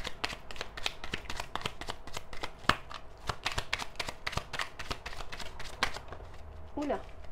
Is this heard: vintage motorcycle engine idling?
no